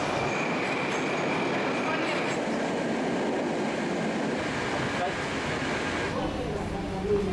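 A steady, rumbling ride inside a Moscow Metro train, with continuous rolling rail noise and faint squeals throughout, while voices murmur underneath.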